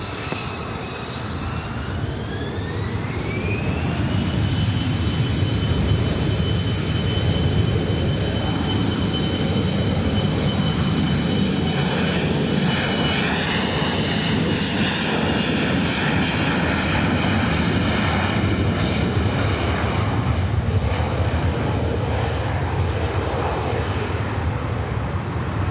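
Airliner taking off from runway 24 right at LAX, its jet engines spooling up with rising whine tones into a sustained loud roar that holds steady for the whole run, no talk.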